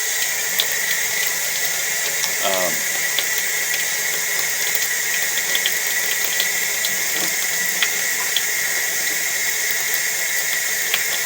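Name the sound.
tap water running into sink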